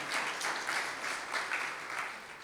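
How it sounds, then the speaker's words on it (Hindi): A church congregation applauds during a Sunday sermon: moderately faint, steady clapping from many people, even in rhythm with slight swells. "तालियां बजा दें दोनों के लिए।"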